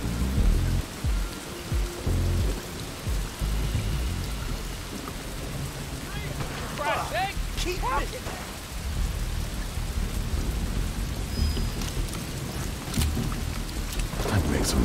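Rain pours steadily in a stormy Desperados 3 game scene, with rumbling thunder building low underneath and a few brief game sounds rising midway; the downpour stays loud and continuous throughout.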